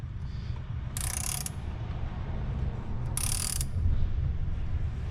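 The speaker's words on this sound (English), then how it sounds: "For this, we're going to be using a 3-claw removal tool and a 19 millimeter" Two short bursts of ratcheting clicks from a ratchet on a 19 mm socket, turning a 3-claw puller during a Ford Ranger timing belt replacement, heard over a steady low mechanical hum without talk.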